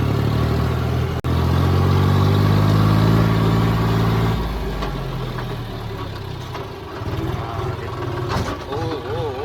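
An agricultural harvester's engine runs nearby, a loud, steady droning hum with a knocking rumble that eases and grows rougher after a few seconds, with faint clatter over it.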